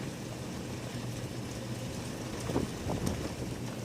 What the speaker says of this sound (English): There's wind.